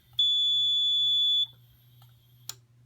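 MS-9200 fire alarm system sounding a single loud, piercing electronic beep that holds steadily for over a second and then cuts off abruptly, followed by a faint hum and a brief click.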